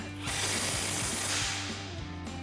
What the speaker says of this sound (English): we can tighten down our pinch bracket bolt with our 16mm socket on our impact and a 16mm wrench